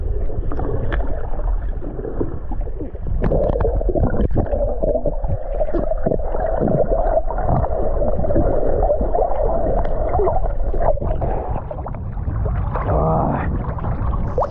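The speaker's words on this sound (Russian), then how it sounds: "давайте ныряем и поплыли." Swimming in warm salty sea water near Kemer gives muffled underwater gurgling and bubbling, interrupted by repeated splashy surges of water movement close to the microphone.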